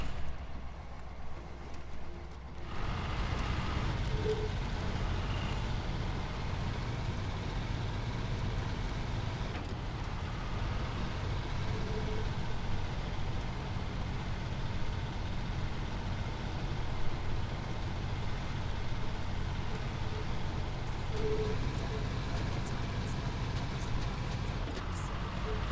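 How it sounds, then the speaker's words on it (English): A truck engine in the off-road driving game SnowRunner hums as a steady, fairly quiet drone that continues almost unchanged throughout. "this kind of sounds like a truck."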